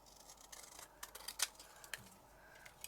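Scissors cut through card stock during card-making, giving faint, close snips and rustles in a quiet room, with a few sharper clicks of the blades.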